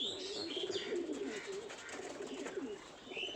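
A male racing pigeon coos nearby in soft, rolling, repeated calls, with a faint chirp of other birds in the background.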